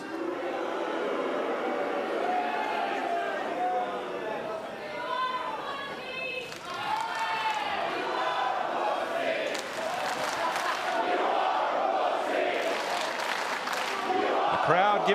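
Wrestling crowd at a live WSW show in Melbourne reacting loudly, sustained chanting, jeering and shouting from many voices filling the arena, swelling and surging throughout with a louder burst toward the end.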